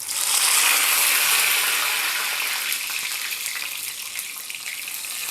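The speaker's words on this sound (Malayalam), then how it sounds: "കടുക് പൊട്ടി തുടങ്ങിയിട്ടുണ്ട്." Mustard seeds crackle and pop in hot coconut oil in a pan, a dense sizzling hiss that is loudest at first and then settles to a steadier, slightly softer fizz.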